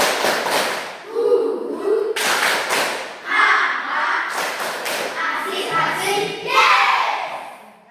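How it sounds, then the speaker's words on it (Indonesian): Pupils in a Catholic religious education class do a rhythmic spirit clap, tepuk semangat, sharp grouped claps and hand thumps in a set pattern, with children's voices chanting along between the bursts. "Kita beri tepuk semangat dulu kepada Cika"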